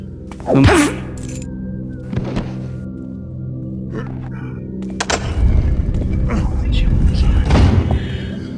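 A door in the stealth video game Thief Gold thuds open or shut with a heavy wooden knock, followed by low rumbling ambience and another burst of clunking activity later on.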